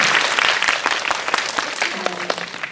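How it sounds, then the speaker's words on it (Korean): An audience applauds at a Korean film screening and guest talk, dense steady clapping from a large crowd that holds its volume throughout and is loud and close. "박수 부탁드립니다."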